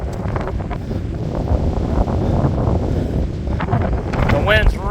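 Strong storm wind roars across the microphone outdoors during a severe thunderstorm on a plains highway, a loud continuous rumbling buffet with gusts and a voice faintly heard beneath it.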